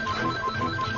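A telephone rings steadily and loud, its electronic ringtone warbling on its own with no voices over it.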